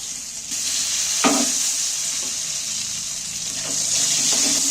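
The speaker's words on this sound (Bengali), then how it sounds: "এবার মাছের তেলেতে বেগুনগুলো আমি তেলের মধ্যে তুলে দিচ্ছি" Eggplant pieces frying in hilsa fish oil in a pan, giving a steady close broadband sizzle with a few soft clinks as they are added and stirred, no talking.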